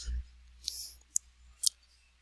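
A few sharp computer mouse clicks, close and distinct, spaced about half a second apart over faint background hum, with no speech.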